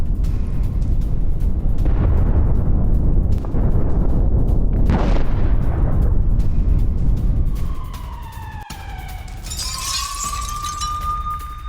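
A Hezbollah rocket attack strikes Haifa, Israel: heavy rumbling blasts and roaring impacts dominate, then fade as a rising wailing siren takes over near the end.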